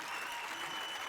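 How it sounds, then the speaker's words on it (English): A small group at a workwear business claps for a retired mum. The dense, even patter of hands is soft and somewhat distant, holding steady through a brief moment with no voices on top. "Let's give Mum a round of applause."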